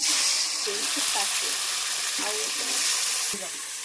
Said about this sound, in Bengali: এখন আমি ফ্রাইড রাইসের জন্য সবজিটা ভেজে নেব ফ্রাইড রাইসের ভাতটা আমি আগে বানিয়ে নিয়েছি ফুলকপিটা প্রথম দিয়ে দিচ্ছি